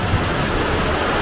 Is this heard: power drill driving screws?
no